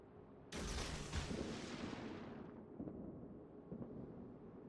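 A warship's artillery salvo in World of Warships, one heavy booming blast that rolls out and slowly fades into a low rumble, followed by faint distant thuds.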